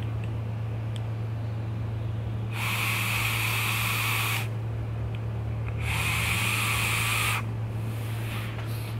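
Air drawn in bursts through the airflow of a Reload X RDA vape atomizer, producing two longer and one shorter breathy hissing whooshes over a low steady hum.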